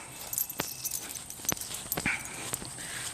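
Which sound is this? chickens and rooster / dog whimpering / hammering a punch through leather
dog whimpering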